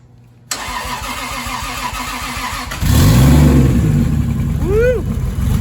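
A Lexus IS300 with a modified engine built for around 700 horsepower cranks and fires up at close range. The start is loud and rough, then settles into a steady, heavy running note.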